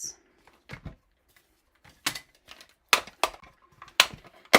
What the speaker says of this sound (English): So I'll just come in with my mini cut and emboss.